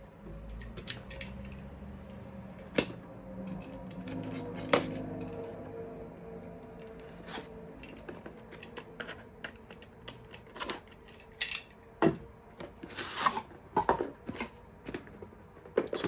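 A Wahoo Elemnt Bolt v3 cycling computer is unboxed, with close crinkling, tearing and clicking of cardboard and plastic packaging that turns into busier bursts toward the end, quiet overall with no speech.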